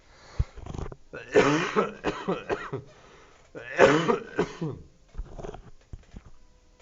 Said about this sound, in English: That's like my real cough.